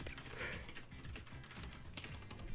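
Fast, frantic clattering of keys on a loud gaming computer keyboard, a dense continuous run of clicks with a low murmur of background noise underneath, no voices.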